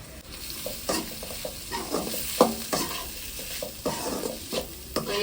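Ginger, green chili and curry leaves sautéing with fish in a pan, a soft steady sizzle punctuated by rhythmic scrapes and taps of a spoon stirring, no speech.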